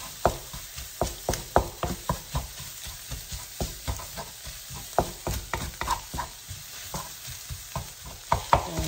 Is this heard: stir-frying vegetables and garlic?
yes